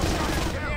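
Gunfire in the stealth shooter Splinter Cell: Conviction, a brief dense burst of shots that are loud and close, packed into under a second.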